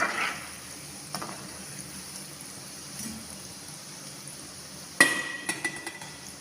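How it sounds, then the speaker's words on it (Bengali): Chicken balls fry in a pan and are turned now and then: a faint, steady sizzle close by, broken by a few sharp metallic clinks and taps of a utensil near the end, with no voices. "এভাবে কিন্তু আমি নেড়ে চেড়ে সবগুলো চিকেন বল ভেজে নিচ্ছি।"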